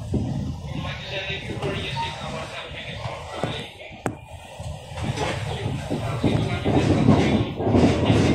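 A train rides the new line between Jatinegara and Pondok Jati, past a former locomotive depot, with a steady close rumble, faint rhythmic clatter and one sharp click partway through.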